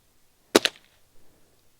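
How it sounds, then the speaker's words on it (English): A single sharp pellet gun shot firing a Gamo Redfire pellet, a crisp crack followed closely by a second snap, then near silence with faint rustle. "those first shots were with the Piranha, and now we've moved on to the Gamo Redfire"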